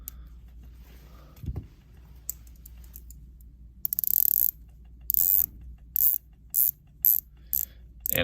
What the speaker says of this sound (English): Fantastic bezel action on this model.